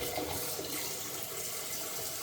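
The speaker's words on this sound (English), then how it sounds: "I peel my eggs under running cool water." Cool tap water runs steadily into a kitchen sink for peeling boiled eggs, a close, even, continuous splashing rush with no talking.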